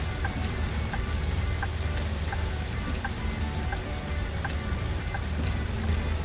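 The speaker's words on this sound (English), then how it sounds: "I hope it stops raining soon." Steady rain patters over a low rumble in Bus Simulator 18 while driving a MAN Lion's City articulated bus, with faint regular ticking drops throughout; no voices.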